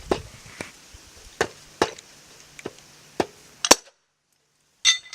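Hammer strikes on wood while building a wooden bee hotel, about nine sharp irregular whacks of varying force, close and loud, with a brief pause before a final blow.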